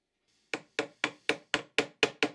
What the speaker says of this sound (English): tap the screwdriver, that will shock the thing and it comes out quite easily